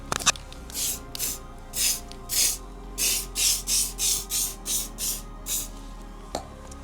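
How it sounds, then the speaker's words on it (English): Contact cement is sprayed onto material in about a dozen short, even hissing bursts with brief pauses between them, close and fairly quiet, with no talk. "we need to get the other side of the material and then equally spray it with the contact cement"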